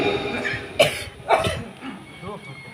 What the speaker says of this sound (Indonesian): saya ini sambil batuk-batuk ya mas sekalian